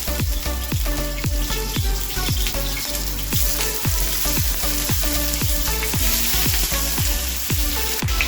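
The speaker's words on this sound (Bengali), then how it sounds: "পনিরগুলোকে কিউব করে কেটে রেখেছি, এগুলিকে আমি ভেজে নেব" Cubed paneer fries in hot oil in a kadai, giving a loud, steady sizzle with repeated clicks and scrapes of a spatula stirring at an even rhythm.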